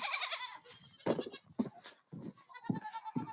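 Several goats on a home farm bleat in short separate calls, close by and fairly loud, with brief pauses between cries.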